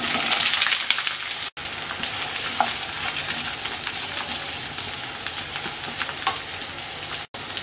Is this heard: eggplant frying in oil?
yes